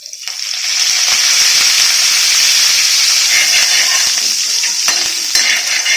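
Garlic fries in a pan for fish curry, a loud steady hiss and sizzle that swells within the first second and holds close and constant, with faint stirring clicks and no talk.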